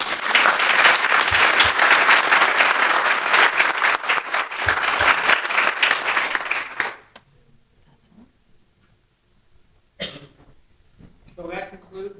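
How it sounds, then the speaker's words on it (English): A crowd at a parks and recreation board award ceremony claps loudly and continuously for about seven seconds, then the applause stops abruptly, leaving a quiet room with a few scattered coughs and shuffles. "one more round of applause for all of our award winners"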